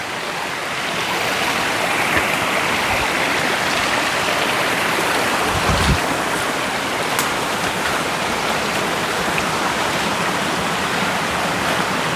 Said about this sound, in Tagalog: Napakalakas ng tubig.